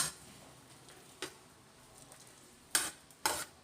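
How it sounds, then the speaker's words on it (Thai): Chopped green onions, cilantro and shallots go into a frying pan over a faint sizzle. A few sharp clatters of stirring and utensils punctuate it, and no one speaks. "ใส่ต้นหอมผักชีแล้วก็หอมแดงที่เ้าหั่นไว้เนาะค่ะลงไปเลยจ้ะ"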